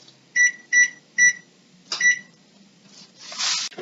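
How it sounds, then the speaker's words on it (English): Three evenly spaced high electronic beeps from a microwave timer, then a fourth after a pause, followed by a click and a short rushing noise. "if you have a microwave on hand, put on a timer for 20 minutes"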